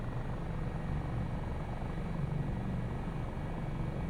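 A helicopter in flight flies near a mountain, giving off a steady, loud, unbroken rotor and engine drone with no voices.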